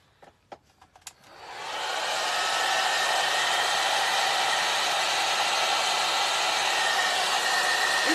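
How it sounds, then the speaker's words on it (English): A hair dryer switches on after a few soft clicks and blows with a steady, loud whooshing roar that continues without pause. "So I'm going to hit this a little bit with the dryer too."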